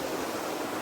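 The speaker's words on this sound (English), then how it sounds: "here we are, our first stream crossing" A shallow stream crossing on a mountain hiking trail gives off a steady, close rush of flowing water, heard briefly with no talk.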